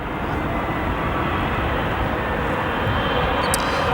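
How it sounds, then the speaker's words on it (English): An Aero Union Airbus A300 departs O'Hare bound for Mexico City, its engines a loud, steady broadband roar that holds unchanged throughout, with no voices over it. "Again, this flight on your screen, Aero Union A300 departing to Mexico City"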